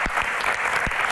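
A brief burst of audience applause at a music Q&A event, dense continuous clapping with a few louder individual claps standing out.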